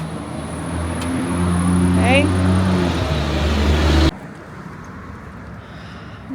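Road traffic rumbles past a German Shepherd on a short leash near a storefront, a loud car passing close for several seconds before cutting off abruptly and leaving a quieter background.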